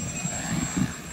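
Model airplane engine during an outdoor flight demonstration, a steady buzzing drone with a thin high whine, heard at moderate distance and constant for the whole brief moment.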